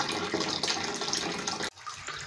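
Water runs steadily into a toilet cistern during a leak repair, a bright rushing stream that cuts off abruptly near the end, leaving a quieter trickle.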